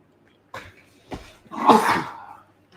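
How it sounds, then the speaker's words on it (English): A single loud sneeze bursts out close by after a couple of short sharp breaths, then fades into quiet. "giant sneeze out of nowhere"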